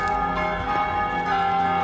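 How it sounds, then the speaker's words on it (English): City bells ring over a storm-threatened New Orleans in The Walking Dead: Saints & Sinners video game, a loud, sustained metallic ringing with layered overtones that holds steady throughout. "The bells ring throughout the entire city."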